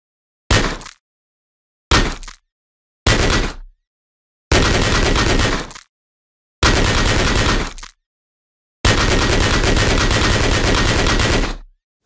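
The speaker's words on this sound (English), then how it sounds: "Change to the machine gun with your mouse wheel." Machine gun fire in the Wwise CUBE game demo, heard as six separate loud bursts with silence between them, the first three short and the last three held longer, all close.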